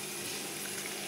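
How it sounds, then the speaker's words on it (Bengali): Water poured into a pan of frying spices, red chili and turmeric, while cooking a dried fish curry, giving a steady broadband hiss and gurgle for about a second. "সামান্য একটু পানি দিয়ে নিলাম, না হলে পুড়ে যাবে।"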